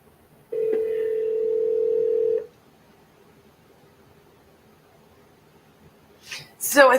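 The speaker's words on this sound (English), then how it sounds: "the main phone and Keaton's phone automatically go to their voicemail when I try to transfer" A telephone dial tone sounds steadily for about two seconds during an attempted call transfer, then stops, leaving quiet room noise and a couple of brief breathy sounds near the end.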